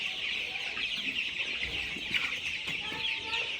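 Colour-bat chickens on a poultry farm cluck repeatedly in short, overlapping bursts against a constant background hum from the flock, with no clear voices.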